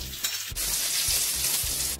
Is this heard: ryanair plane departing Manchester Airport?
no